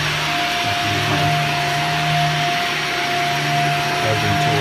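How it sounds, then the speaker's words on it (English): Vacuum cleaner running over carpet in a large empty house, a loud steady motor whine with a high tonal hum, close and continuous, slight shifts as it moves. "get your vacuum out and thoroughly vacuum all the carpet you want done."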